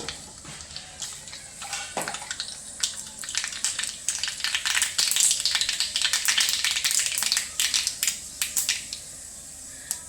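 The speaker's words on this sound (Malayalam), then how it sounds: "കടുക് പൊട്ടി കഴിഞ്ഞു." Mustard seeds spluttering in hot oil in a pan, a dense run of sharp pops and crackles that builds to a busy peak midway and then thins out.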